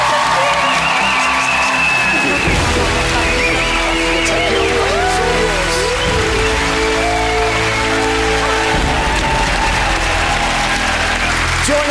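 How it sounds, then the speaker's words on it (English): A game-show studio audience bursts into loud, sustained applause with cheering, the clapping continuing steadily after a brief opening sound. "give them a big round of applause"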